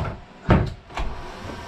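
A newly fitted door in a boat's repaired bulkhead is swung shut with a soft thud followed by a second lighter knock as it seats in the frame, close by in a quiet cabin.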